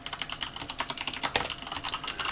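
Java code being typed on a computer keyboard: a brisk, continuous patter of close key clicks with an uneven rhythm and a few heavier strokes, with no talk.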